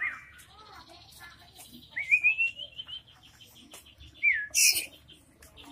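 An Aceh white-rumped shama (murai batu) sings close by in bright, clear whistled phrases broken by short pauses, with one sharp, high burst near the end over a quiet background.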